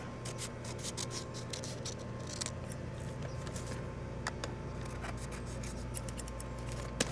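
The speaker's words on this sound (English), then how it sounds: "Guess cut off the excess there." Scissors snip through excess material in a rapid series of short, close cuts at a steady rhythm over a quiet background hum, with no one speaking.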